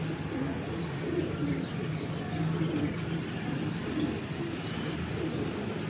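A pigeon of the Chuha breed coos softly and repeatedly at close range over a steady, noisy background, with other bird chirps mixed in and no talking.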